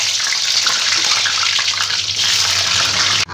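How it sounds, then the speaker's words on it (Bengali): Cut potatoes fry in hot oil in a wok, giving a loud, continuous close-up sizzle and hiss that holds steady before cutting off abruptly at the end. "এবার আমি এই কেটে রাখা আলুগুলোকে প্রথমে ভেজে নেব।"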